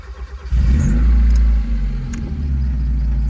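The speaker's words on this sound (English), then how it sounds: "I'm about to start my car" A car engine catches after a brief crank and settles into a loud, close rev, then eases back to a steady idle rumble, heard alone.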